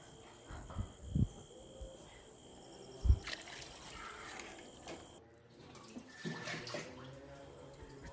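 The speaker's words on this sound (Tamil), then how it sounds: "இப்போ தண்ணி ஆட் பண்ணிக்கலாம்." Water pours and splashes into a cooking pot of rice at moderate distance, with a few clunks and knocks of cookware and a running, trickling flow.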